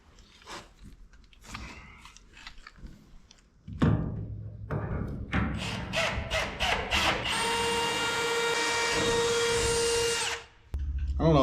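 A ratchet tightens bolts on the bed floor of a 1959 Apache pickup, with quick clicking bursts and thumps, then a long steady whirring run that ends abruptly, all close up and fairly loud.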